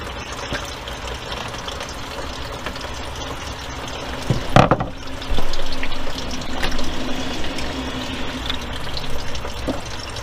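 Engine coolant drains slowly from a car radiator during a complete coolant flush, a steady close trickle of liquid running continuously with a few brief louder clunks partway through.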